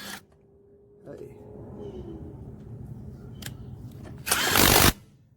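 A SEYVUM 20-volt cordless 1/2-inch impact wrench, rated at 320 max torque, tightens with a short, loud, harsh burst near the end, after a stretch of quieter mechanical handling noise.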